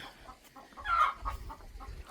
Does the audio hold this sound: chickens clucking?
yes